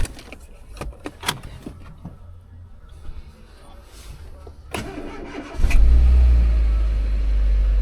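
Clicks and rustling inside a cheap auction car, then its engine cranks and catches, settling into a loud, steady low rumble up close.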